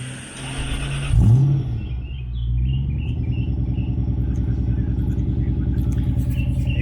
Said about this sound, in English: Danii's going to give us a cold start